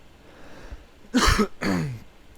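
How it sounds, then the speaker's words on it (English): A man gives two close, rough coughs in quick succession, brought on by cold air from an air conditioner, after a faint quiet lead-in with no speech. "I always start coughing because it's too cold."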